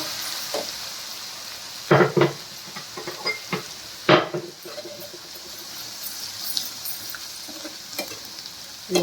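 Crushed garlic fries in a pan for a broad bean chutney, giving a steady close sizzle with a few clinks and scrapes of a stirring utensil and no talk.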